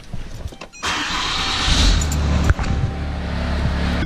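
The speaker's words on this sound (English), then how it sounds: "The truck's idling. What's that, about 700 RPM." A 6.7 Cummins turbo diesel pickup with a suspected head gasket failure starts up and settles into a steady, close idle, a broad continuous rumble that holds level after the initial catch.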